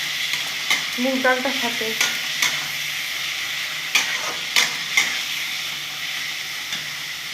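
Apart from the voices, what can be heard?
frying and stirring pointed gourd (potol) with moong dal in a pan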